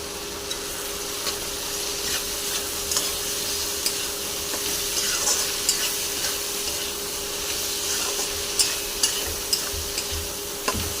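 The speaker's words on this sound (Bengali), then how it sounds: "এবার সবজিগুলো ভালো করে ভাজা হয়ে গেছে।" Vegetables sizzle in a pan with salt and turmeric while a spoon stirs them, giving steady frying crackle with repeated scraping clicks, no talking.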